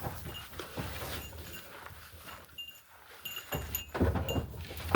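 Goats inside a farm building during evening chores, heard as scattered bleats among shuffling and rustling, with a louder burst of activity near the end.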